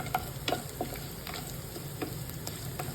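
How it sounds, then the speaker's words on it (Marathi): Cardamom, a cinnamon piece and other whole spices dry-roast in a pan for a Rajasthani kadhi tempering, giving a soft steady sizzle with scattered light clicks and scrapes of stirring, fairly quiet and with no talking. "वेलची छान भाजून घ्यायचे मसाले टाकून"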